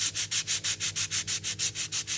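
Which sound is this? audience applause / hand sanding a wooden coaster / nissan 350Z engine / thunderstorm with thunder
hand sanding a wooden coaster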